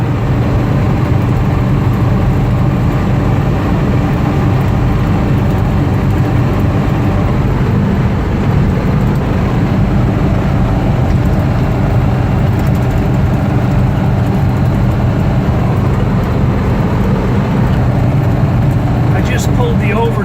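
A Raven Black 1956 Ford Thunderbird with a three-speed manual and overdrive cruises at about 65 to 70 mph, its engine a loud, steady low drone mixed with road and wind roar throughout, continuous and unbroken.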